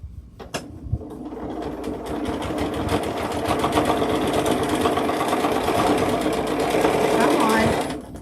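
A sewing machine runs steadily while top stitching a tote bag, a close, even mechanical whir with rapid stitching clatter that starts after a couple of brief clicks and stops near the end.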